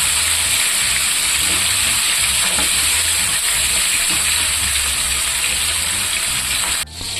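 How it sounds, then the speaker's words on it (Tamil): Chicken leg pieces fry in hot oil in a kadai, giving a steady, loud, continuous sizzle that runs unbroken until it drops off abruptly near the end. "நல்லா ஃப்ரையாக இருக்கும்."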